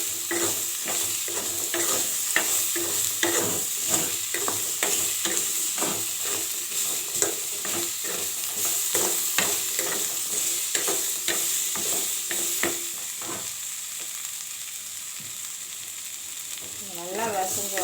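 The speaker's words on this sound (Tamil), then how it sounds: "இது கொஞ்சம் நல்லா வதங்கணும்." Ground paste with ginger sautéed in a pan for a thovial: steady sizzling and frying runs throughout, with repeated sharp scraping strokes of a spoon stirring. It is close and loud, with no talk.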